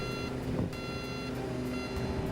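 A steady electronic alarm beeps continuously as the outriggers of a demolition fire truck fold away, with a constant mechanical hum underneath.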